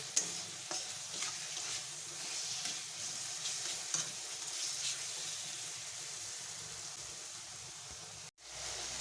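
A spice paste of cumin, red chili powder and onion sizzles continuously in a pan, with soft stirring scrapes throughout before it cuts off briefly near the end.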